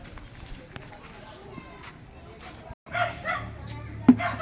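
Dog barks in an outdoor neighborhood setting, a few short yips and barks at moderate distance mixed with people talking and ambient noise.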